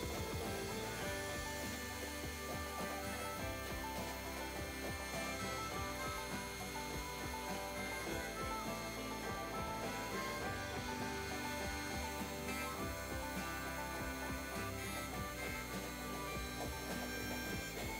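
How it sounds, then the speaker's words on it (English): A bandsaw cuts a curve in wood with a dense, continuous buzzing rasp that holds steady and fairly quiet throughout, with no voices. "Cutting on the bandsaw starts out smoothly, but the blade quickly goes off track of the circle."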